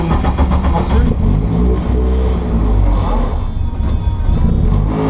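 A race car engine starts at the push of a button and roars steadily, revving up and down throughout, close by, with a rough mechanical rumble, at the Mettet circuit.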